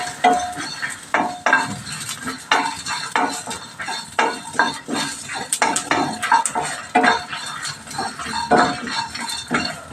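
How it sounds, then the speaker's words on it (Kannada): Half an onion and four or five garlic cloves hit a hot pan and are stirred briskly, with rapid metallic scrapes and clinks over a low sizzle, loud and close throughout. "ನೋಡಿ ಇವಾಗ ಈರುಳ್ಳಿ ಬೆಳ್ಳುಳ್ಳಿ ಹಾಕ್ತಿದ್ದೀನಿ."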